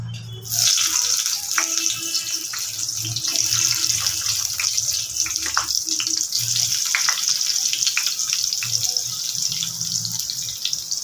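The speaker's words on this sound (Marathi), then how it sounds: "वांग्यानं थोडं भाजून घ्यायचे तेलावरती." Stuffed eggplants fry in hot oil in a wok, giving a loud, steady sizzle and crackle that starts abruptly and holds throughout, with occasional light clinks.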